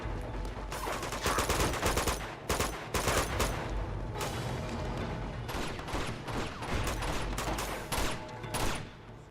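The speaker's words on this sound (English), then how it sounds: "The machine gun's just gonna fire a lot." A machine gun fires rapid, dense bursts in the video game Uncharted 2, with loud clustered gunfire broken by short gaps and a few scattered single shots.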